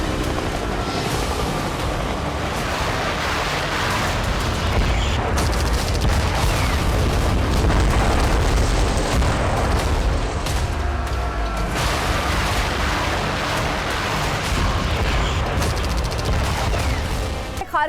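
Heavy, continuous rumbling blasts and crackling bursts like gunfire from a Russian attack on Kharkiv, Ukraine, loud and unbroken for the whole stretch.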